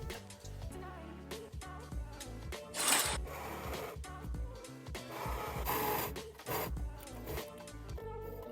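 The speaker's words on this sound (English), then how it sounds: "It's time to sew up the back seam" A sewing machine stitches the back seam of a sleeveless lined dress, its motor running in dense bursts with brief pauses and a few short stops and restarts, steady and fairly close.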